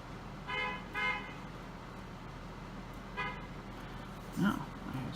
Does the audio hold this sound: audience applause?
no